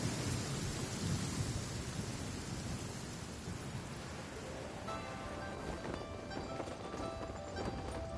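A thunderstorm in the video game Genshin Impact, heard as a faint, steady wash of rain with low thunder rumbling through it, and a few lighter tapping sounds toward the end.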